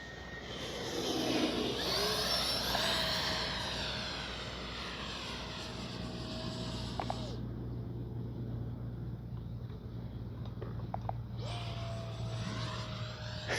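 A Freewing F-35 70mm RC jet flies past outdoors, its electric ducted fan a high whine that swells and falls as it passes near and then far, dropping away briefly before returning.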